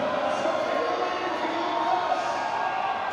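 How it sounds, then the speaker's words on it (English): An arena crowd at a strongman elephant bar deadlift keeps up a steady, loud roar of cheering and shouting, a dense wall of voices with no single voice standing out. "crowd are responding. They want to see this lift go up."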